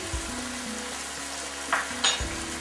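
Chicken stir-fry sauce bubbling and sizzling in a pan, a continuous close frying hiss with a couple of brief louder spatters near the end, no voices.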